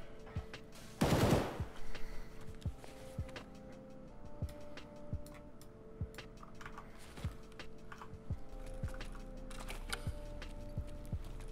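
Gunfire in the Escape From Tarkov video game: one loud, close burst early on, then a string of sharp single shots spaced irregularly across the clip, with some quieter distant cracks in between.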